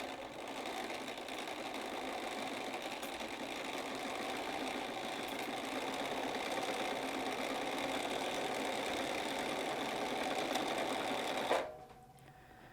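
Sewing machine stitching a seam around a pillow, a close, steady whirring hum with fast needle clatter running for several seconds before stopping abruptly.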